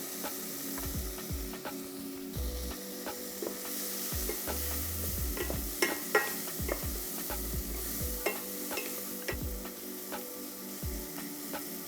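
Tomatoes and onions sauté in a pan, a soft continuous sizzle broken by repeated spoon scrapes and clicks against the pan, close by and without talk.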